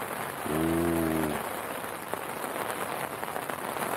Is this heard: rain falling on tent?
yes